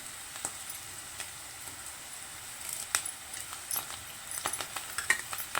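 Curry leaves crackling in hot oil with ginger-garlic and turmeric in a pan for Indian egg curry, a soft steady sizzle punctuated by sharp pops that grow busier toward the end, no talking.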